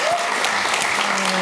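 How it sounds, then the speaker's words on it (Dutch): A live audience at a Dutch evening talk event breaks into warm applause, a dense burst of clapping filling the room for a short moment. "geef een warm applaus"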